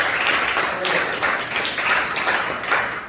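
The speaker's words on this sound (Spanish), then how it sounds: "Denle un aplauso al Señor." A church congregation claps in unison, a dense, steady wash of hand claps that swells in waves, fairly loud and sustained with no talk over it.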